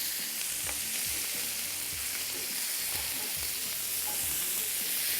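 Chopped onions and green chilies fry in a pan with a steady, dense sizzle and occasional stirring scrapes, close and continuous with no talk.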